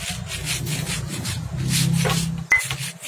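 Spices with red chili and salt are ground by hand for dendeng, giving rhythmic scraping and rubbing strokes up close, with a sharp knock near the end.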